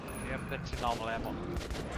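Assault rifle fire in the video game Metro 2033 Redux, using ammunition with a burning effect: dense, continuous bursts of shots fill the whole two seconds at steady loudness, with a voice faintly underneath.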